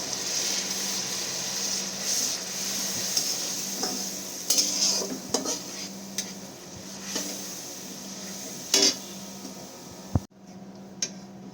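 Spice paste for a Bengali bhola fish curry stirred and fried in oil, with a steady sizzle under repeated scraping strokes of a spoon against the pan and a few metallic clinks, with no talking.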